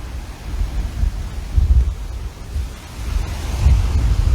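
Strong wind gusts buffet the microphone at a rainy beach at daybreak, a deep rumbling roar that swells and surges in waves, with faint surf beneath and no talking.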